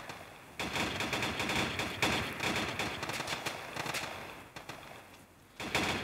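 Rapid bursts of gunfire in the mobile game Harekat 2 crackle in quick succession, dense and sustained with brief pauses, no talking over it.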